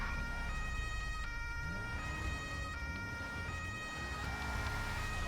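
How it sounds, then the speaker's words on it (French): A German emergency vehicle siren wails in a steady alternating two-tone pattern, loud and continuous throughout, over a low rumble of road traffic. "qui veut dire sirène allemande"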